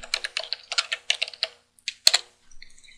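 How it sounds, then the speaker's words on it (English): Typing on a computer keyboard to enter a terminal command, a run of close, crisp keystrokes in quick clusters, then a sharp final keypress and a few faint clicks. "let's open a terminal window again. And let's type in run level."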